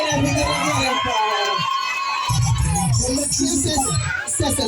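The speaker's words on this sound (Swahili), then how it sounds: "Jamani piga kelele na vigelegele kwa." A large crowd at a gathering cheering and shouting, with high excited voices and ululation-like trills mixed in, dense and continuous at close range.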